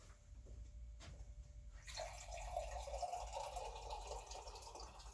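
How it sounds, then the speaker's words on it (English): Cold water pours into a teapot during a Ceylon tea demonstration, a steady splashing fill starting about two seconds in and running to the end, fairly faint and with no talk over it. "By adding some cold water, this will drop to 175"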